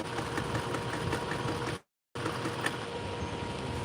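Sewing machine stitching a denim jean jacket being reworked, a fast continuous mechanical whir with a brief gap of silence mid-run before stitching resumes.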